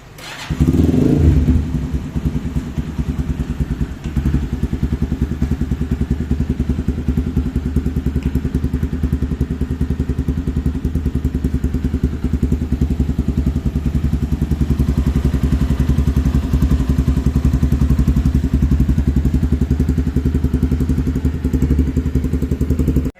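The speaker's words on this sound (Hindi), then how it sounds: "और अब जो है इसकी बारी है इसको स्टार्ट करने की" A Kawasaki KPR motorcycle with a completely rebuilt engine, brand-new crank and fresh 10W-40 oil, catches on the start and then runs at a steady, close idle with a rattly mechanical clatter for over twenty seconds, with no talking.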